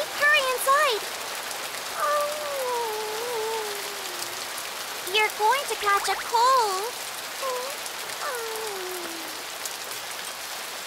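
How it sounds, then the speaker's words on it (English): Heavy cartoon rain hisses steadily through the scene, a constant wash under bright animated voices talking and calling out over it. "Oh, it's raining hard."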